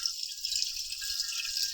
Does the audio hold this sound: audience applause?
no